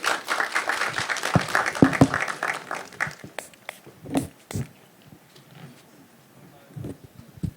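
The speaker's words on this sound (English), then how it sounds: "A round of applause, please." An audience at a security forum claps in a burst of applause that starts dense and loud, then thins into scattered claps and fades.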